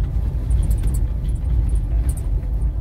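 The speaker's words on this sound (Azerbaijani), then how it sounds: "Məhdə Şuşada maşın sürmək də var imiş." A car drives through the streets of Shusha, its engine a low, steady rumble close by with continuous road noise and faint rattling, no voices heard.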